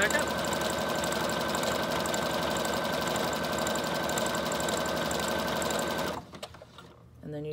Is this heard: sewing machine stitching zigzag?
yes